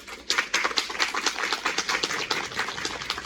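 Audience applause for the staff after a musical performance, a moderate wash of many hands clapping in quick irregular bursts, fairly close and even throughout.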